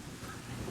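Strong coastal wind at Enoshima, Japan, buffets the microphone in a steady, roaring rumble, with a hint of rough sea underneath.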